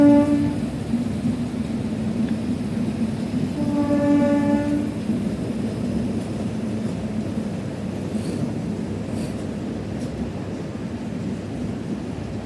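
A train passes a railway level-crossing gate at the Renigunta market near Tirupati, sounding its horn in two loud blasts over a steady, close rumble of rolling wagons.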